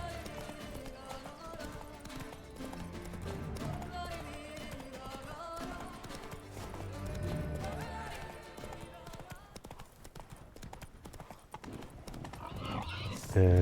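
Horse hooves clip-clopping at a steady riding rhythm in The Witcher 3, mixed under a busy game soundtrack and a talking voice, with a brief whinny-like burst near the end.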